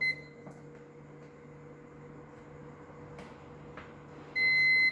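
A Japanese-market one-litre induction rice cooker gives a single bright electronic beep near the end, loud and close, after a stretch of quiet hum and faint background noise.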